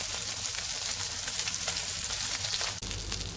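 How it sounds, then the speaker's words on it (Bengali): Dense, steady sizzle and crackle of rohu fish pieces frying in hot oil in a kadai, heard close and alone, with a brief soft knock near the end. "আমি মাছগুলোকে একটু কড়া করে ভেজে নিব।"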